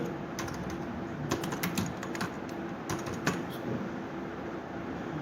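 Keys clatter on a computer keyboard during online registration form entry, in steady bursts of clicks over a low hum, with a few pauses between runs of typing.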